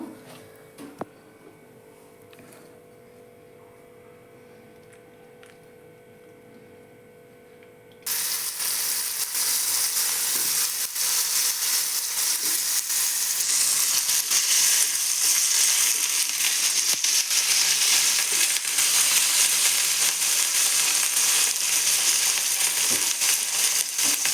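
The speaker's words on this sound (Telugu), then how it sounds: "పెనం వేడైంది కదా కొద్దిగా ఆయిల్ వేసుకొని వంకాయలు మరియు బంగాళాదుంప రెండింటిని వేయించుకున్నాము" Brinjal and potatoes frying in a little oil in a hot pan, a quiet start giving way abruptly to a loud, steady sizzle that continues unbroken to the end.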